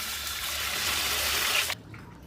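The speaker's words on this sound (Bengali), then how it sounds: "এবার সেটা ধুয়ে নিচ্ছি আমি" Home-grown strawberries are rinsed under a running tap, a close, steady gush of water that stops abruptly near the end, leaving only quiet room sound.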